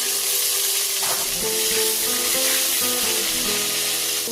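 Potatoes sizzle and crackle steadily as they drop into hot oil in a pan for a Bengali shol fish curry, with a louder burst near the start and a clatter of stirring.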